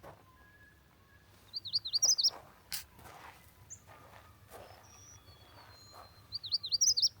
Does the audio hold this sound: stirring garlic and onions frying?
no